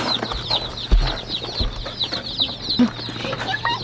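Newly arrived baby chicks give a steady chorus of high, thin peeping close by, with some soft thumps and handling noises underneath; no talk.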